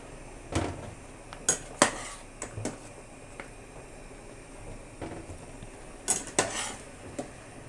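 Cooked lazy dumplings made from curd cheese, eggs and flour are drained from a pot, with scattered metallic clanks and scrapes of pot and utensils over a quiet background and a few louder knocks near the end.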